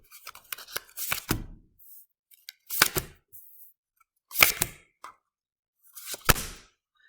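A deck of playing cards being shuffled in four separate short bursts of riffling and snapping, close and fairly quiet, with brief pauses between each burst and no talking.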